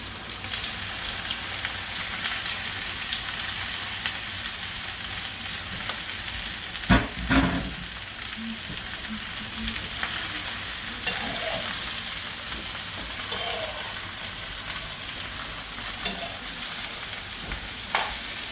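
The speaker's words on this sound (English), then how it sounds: "As you can see, my garlic is frying." Garlic and onion frying in oil with okra in a pan for Guyanese-style cooking, a loud, steady sizzling crackle that continues without a break, with a brief clatter of stirring partway through and no voices.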